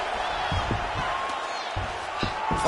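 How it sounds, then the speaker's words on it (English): Arena crowd at a UFC event roars and cheers after a grueling ground battle, a steady wash of voices with scattered shouts and claps, heard under a commentator's voice. "you heard the crowd pop after that grueling ground battle"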